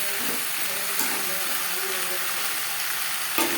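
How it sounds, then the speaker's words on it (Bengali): Peeled potato pieces are tossed with frying spices for a Bengali fish curry, giving a steady loud sizzle with a couple of utensil knocks as the mix is turned. "মশলার সাথে আলু বেশ ভালো করে মিক্স করে দেবো"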